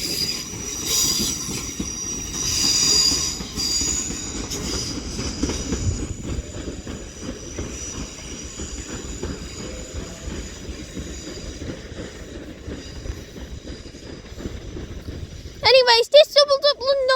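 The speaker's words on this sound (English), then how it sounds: "this doubled up London North Western Railway class 350 departs Crewe now" A doubled-up London Northwestern Railway Class 350 electric train departs Crewe, its wagons rumbling and clattering steadily over the rails nearby, with wheels squealing sharply near the end; people talk intermittently underneath.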